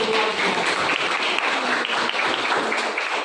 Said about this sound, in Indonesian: tepuk tangan untuk menindih